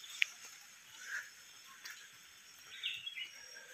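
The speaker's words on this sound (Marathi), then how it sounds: "बुलबुल ओरडतोय, शिपाई बुलबुल हा ओरडा लागलाय" A red-whiskered bulbul in Western Ghats forest at dawn gives a few faint, short, distant chirps over quiet ambience, with a soft insect hum in the background.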